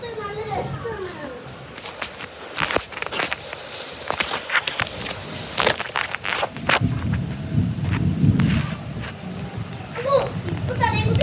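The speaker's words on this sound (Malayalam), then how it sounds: "ഈ മഴയത്ത് നല്ല രസമാണ്." Rain pours down while thunder rumbles in low, rolling bursts, with children shouting and playing close by throughout and sharp knocks breaking through now and then.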